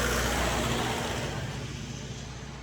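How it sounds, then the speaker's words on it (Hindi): A tourist vehicle approaches on a road near the Yana Caves in Gokarna, Karnataka, a steady broadband engine and tyre rumble holding loud and close, easing slightly toward the end. "वहाँ से एक गाड़ी आ रही है"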